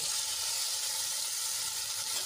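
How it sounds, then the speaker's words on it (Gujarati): Garlic and chili paste sizzles in hot oil in a pan, making a steady, even hiss of fine crackle that holds at one level from start to finish with no voices. "એક ચમચી લસણ અને મરચાંની પેસ્ટ એડ કરીશું"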